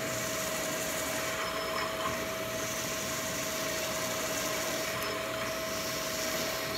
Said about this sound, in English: we can drill all the way through this thing